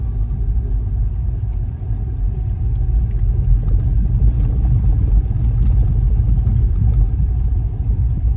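A manual five-speed electric car driving slowly, a steady loud low rumble and whine from close inside the cabin that holds fairly even throughout, with no talk.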